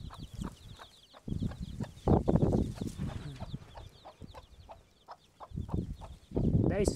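Hen clucking near her ten chicks on a farm, with bursts of soft repeated clucks and peeping across the clip, louder clusters at intervals and faint background chatter.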